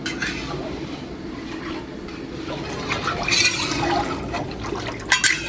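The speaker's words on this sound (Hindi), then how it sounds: "खुरपे की मदद से मुसलसल हम इसमें हिलाते रहेंगे।" Milk for Multani sohan halwa being stirred continuously in a large karahi with a metal spatula over a fire, a steady liquid sloshing and scraping with a few sharper clinks near the end.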